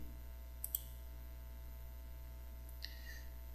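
Two or three sharp computer mouse clicks sound in quick succession and then again a few seconds later, faint and close against a steady electrical hum, with no voices.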